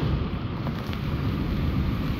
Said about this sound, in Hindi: और बारिश बहुत ज़्यादा हुई है